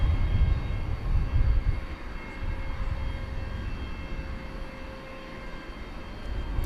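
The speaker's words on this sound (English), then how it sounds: "Ah, a handsome aircraft it is." A jet aircraft at DFW airport at night rumbles in the distance, a broad low roar with a faint steady whine that fades slightly over several seconds.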